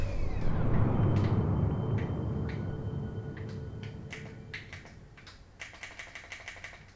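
Sharp clicks of game controls being pressed while playing Outer Wilds: Echoes of the Eye, first spaced apart over a fading rumble, then quickening into rapid, close clusters of taps near the end.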